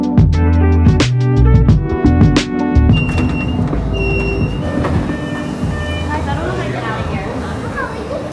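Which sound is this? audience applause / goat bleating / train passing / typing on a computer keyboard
train passing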